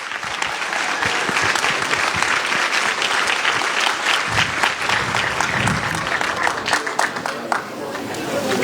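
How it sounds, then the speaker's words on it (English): A crowd at a Somali community gathering applauds steadily to welcome an imam, with a dense, sustained wash of clapping and some chatter mixed in throughout. "So please give him a round of applause,"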